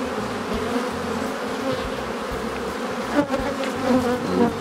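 A honey bee swarm buzzing steadily and densely, a loud continuous drone with a few louder swells near the end.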